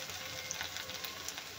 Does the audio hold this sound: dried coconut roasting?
yes